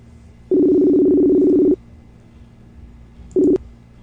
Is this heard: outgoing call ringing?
yes